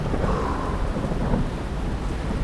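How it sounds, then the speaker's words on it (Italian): A summer thunderstorm rumbles continuously with heavy rain hissing down, a loud, dense wash of thunder and falling water with no voices. "Di solito i temporali estivi durano poco"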